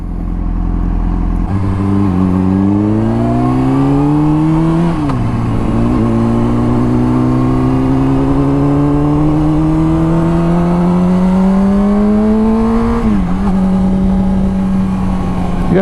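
A motorcycle engine drones steadily while riding, its pitch climbing and shifting through gear changes with strong harmonic tones, loud and continuous throughout.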